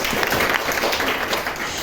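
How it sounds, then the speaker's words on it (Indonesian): A classroom of vocational school students in Banyuwangi claps together, making a brief, dense patter of applause that holds steady for a couple of seconds. "Oke, tepuk tangan buat kita semua."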